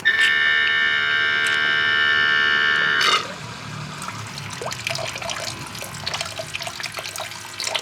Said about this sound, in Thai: ระบบดูดน้ำก็คือ ใช้กดปุ่มนะครับ